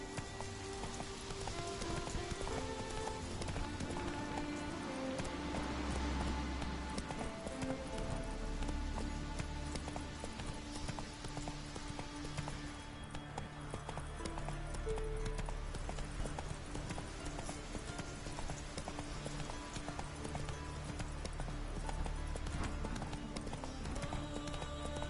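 A horse gallops in The Witcher 3: Wild Hunt, its hooves drumming in a steady, rapid clip-clop rhythm throughout, set against a continuous rain-like game ambience and faint background music.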